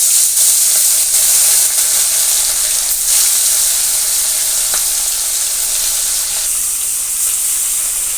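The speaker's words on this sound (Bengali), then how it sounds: "তেলটা গরম হলে এক এক করে মাছগুলো ছেড়ে দেবো।" Fish frying in hot oil in a wok on a stove gives a loud, steady bright sizzle and spitting hiss, close up and continuous with a few small crackles.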